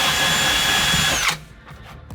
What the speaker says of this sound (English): So you put that in the drill, put that in the hole, and apparently it strips it clean.